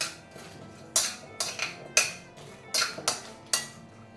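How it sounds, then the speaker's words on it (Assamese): A metal spoon stirring fried potatoes in a pan, six or seven sharp clanks against the pan at uneven intervals over a low background, close and fairly quiet. "গোটেইখিনি ভালদৰে লৰাই দিছোঁ।"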